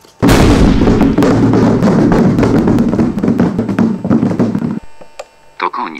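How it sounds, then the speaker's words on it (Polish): Loud explosion in the Lego Worms game, a sharp blast followed by a long crackling rumble with rapid pops, fading out near the end before brief electronic tones. "Nie mogli przeżyć tej eksplozji."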